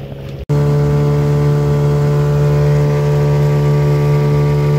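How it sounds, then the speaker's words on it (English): A Hangkai 12 hp outboard motor on a fishing boat cuts in after a brief silence and runs at a loud, steady drone with a strong constant hum. "That Hangkai 12 horsepower motor is freaking awesome."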